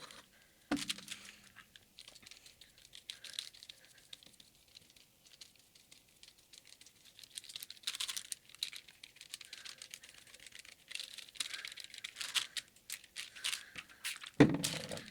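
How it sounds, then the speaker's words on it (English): Tape is pulled and pressed onto cardstock in short, quiet bursts of crackling and tearing, scattered irregularly over a hushed background with one louder crinkle near the end. "I'm gonna take a piece of cardstock and tape it to it"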